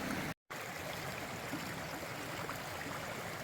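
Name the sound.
creek water flowing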